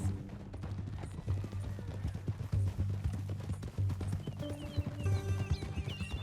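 A horse in the Western video game Red Dead Redemption II walks with a steady clip-clop of hooves, close and fairly loud over low background sound, and a faint musical tone enters near the end.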